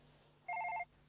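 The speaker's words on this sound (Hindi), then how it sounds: "एक और कंडोलेंस फोन" A telephone rings once with a short electronic trill, a quick burst of warbling tones that stands out clearly against a quiet room hum, then stops.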